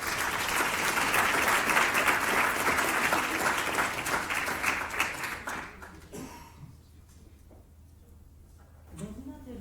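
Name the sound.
applause for speaker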